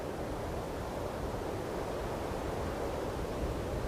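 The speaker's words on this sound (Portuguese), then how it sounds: "olha, vento." Wind gusting steadily along a rocky sea coast near a fortress, a continuous broadband roar mixed with distant surf, loud and unbroken with no talking.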